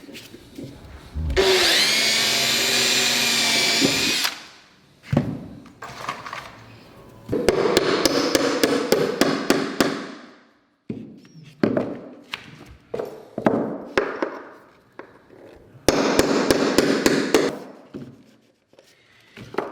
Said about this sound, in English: make sure you stop hammering before the nail gets past that point